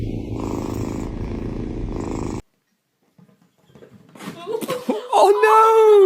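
Cat purring: a steady rumbling purr, close and loud, for the first couple of seconds, then silence, followed by people reacting with exclamations and laughter-like voices.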